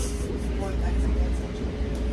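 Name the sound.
train riding in New York City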